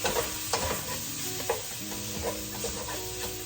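Onion and red pepper flakes browning in olive oil for a copycat Zuppa Toscana, a close, even sizzle with regular scraping and clinking stirs of the utensil in the pan, no voices.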